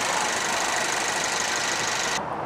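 The 2.0-liter I-4 engine of a 2013 Ford Focus runs steadily, a continuous even hum heard close with no voices, cutting off slightly toward the end.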